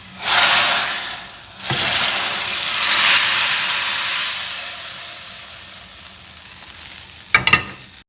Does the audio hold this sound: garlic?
yes